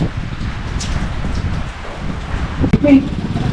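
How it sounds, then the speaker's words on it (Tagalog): Sudden rain falling on a street, a steady soft hiss of drops throughout with people talking over it and a brief clatter near the end. "Biglang umulan guys."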